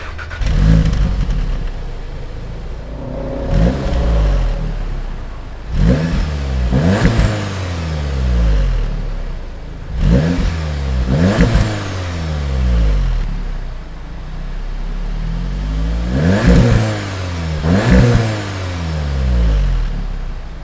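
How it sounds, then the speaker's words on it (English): A 2018 Audi S3 sedan's 2-liter turbocharged four-cylinder revs repeatedly, several loud rising-and-falling bursts spaced a few seconds apart over a steady idle, close by and with no talk. "under the hood, the S3 actually has a 2-liter turbo 4, just like the regular A3"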